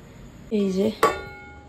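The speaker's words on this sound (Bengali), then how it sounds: "জল দিয়ে দিয়েছি, এবার ঢাকা দিয়ে দেবো।" A metal lid is set onto a pot of simmering meat curry, giving a short scrape followed by a single bright ringing clink that fades, close and fairly quiet.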